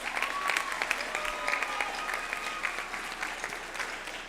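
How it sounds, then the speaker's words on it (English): Audience applause at a school assembly celebrating outstanding scholars, a sustained crowd of hands clapping steadily with a few sharper individual claps standing out, easing off toward the end. "Let's give them a big round of applause."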